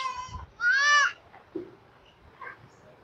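Goats kept at a farm bleat, with one clear, loud, wavering call in the middle and a shorter cry before it, followed by fainter scattered farmyard noises.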